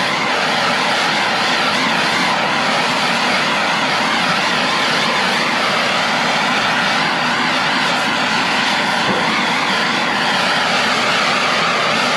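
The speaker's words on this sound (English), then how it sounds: "Let me get the torch. We'll start heat shrinking it." A blow torch roars continuously at close range while heat-shrinking tubing for a homemade shrimp pump, a loud, unbroken rushing hiss with no talk.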